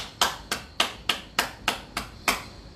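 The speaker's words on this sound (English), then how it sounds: "Let's all clap the hands for a short while." A group claps hands in unison during a bed yoga session. Seven crisp, evenly spaced claps fall at a steady, slightly quick pace, each with a short room echo, and there is no speech between them.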